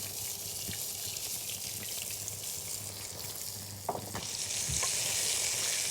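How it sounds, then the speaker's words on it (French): Red onions sizzle in a little oil in a pan, making a steady close frying hiss with stirring clatter, then a brighter surge of sizzle near the end, and no one speaks. "On entend chanter nos oignons."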